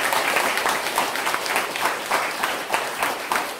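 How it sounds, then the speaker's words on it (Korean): A gathering at a Catholic retreat for visually impaired people gives a big round of applause, with close, full clapping from many hands that stays steady for several seconds without speech. "다시 한번 큰 박수 좀 부탁드립니다"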